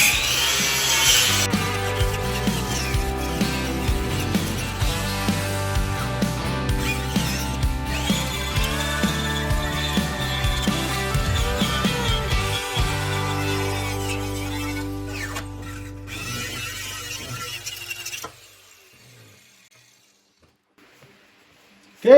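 A power tool whirs steadily as it strips paint from a snow blower under repair, with a regular pulsing rhythm and shifting pitch. It stops abruptly near the end, leaving quiet.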